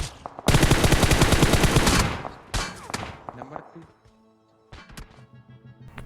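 Gunfire in PUBG Mobile: a long, loud burst of rapid automatic shots, a brief echoing crack, then a quieter stretch with a few scattered distant shots.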